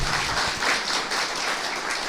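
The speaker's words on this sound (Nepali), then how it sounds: "ताली बजाउनुहोस् न हजुर" An indoor audience at a talk on positive thinking breaks into steady, dense applause, many hands clapping together at an even level throughout with no voices over it.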